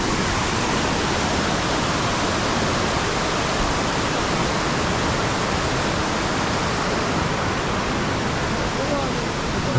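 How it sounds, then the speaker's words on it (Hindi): Mantokha waterfall in Skardu roars with rushing water, a dense, constant, loud wash that stays even throughout with no break. "ये जी फाइनली मंतोखा वाटरफॉल देख रहे हैं आप"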